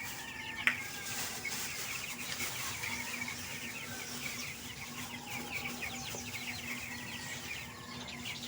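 Hungry broiler chickens on a farm cluck and chatter continuously at feeding time, a dense, busy flock sound, with one sharper call standing out near the start.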